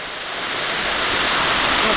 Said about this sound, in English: we're watching the waterfall